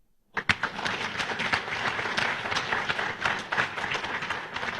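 An audience at a State of the Nation platform event breaks into sustained applause, dense clapping starting abruptly and continuing steadily and loudly throughout.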